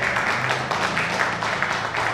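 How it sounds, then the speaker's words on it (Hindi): Audience applause at a Hindi hasya kavi sammelan poetry gathering, a dense steady wash of many hands clapping for the full stretch, fairly loud and continuous with a faint murmur of voices underneath. "ऐसी जोरदार तालियां बजाना"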